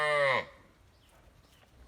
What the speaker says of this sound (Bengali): এক নম্বর গরুর বকনা বাচ্চা দেখুন চমৎকার বকনা